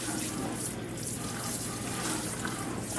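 Tap water runs steadily into a sink to rinse out residue, making a continuous close splashing rush with no pauses or voices.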